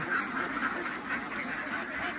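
Ducks quack at a Thai duck farm, a dense, steady chorus that sounds faint and far off and runs under a broad wash of background noise.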